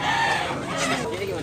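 Imported gamefowl, a Golden Bullik yellow-legged bullstag rooster, clucking close by in short throaty bursts, with someone talking over it in a noisy outdoor setting.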